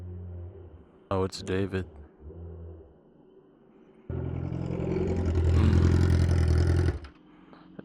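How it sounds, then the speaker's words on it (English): A BMW S1000RR motorcycle arriving at a car meet, its engine swelling to a loud, steady roar for a few seconds before cutting off, preceded by a brief spoken remark. "I hear a bike."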